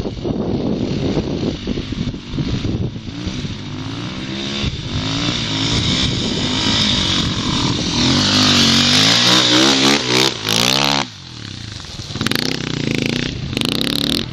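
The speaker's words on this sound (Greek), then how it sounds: "Το κάνει πολύ γραμμικό το μηχανάκι. Θα ακούσω δουλεύει." A motorcycle engine runs and revs up and down, loud and close, with rising whines and a brief dip near the end.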